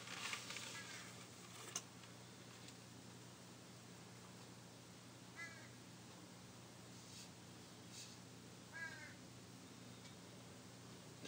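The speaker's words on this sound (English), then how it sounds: "Seems like that bird is getting closer." A crow-like bird caws a few times from some distance against a steady outdoor hiss, with short separated calls spaced several seconds apart.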